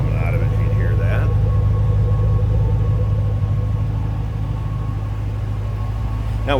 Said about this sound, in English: When you're on the gas, you hear that blower and the exhaust all at the same time. Great sounding car. Nice little rumble coming out of it.